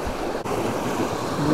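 Mediterranean sea waves washing against a rocky shore, a steady broadband surf roar with wind buffeting the microphone, loud and close with no voices.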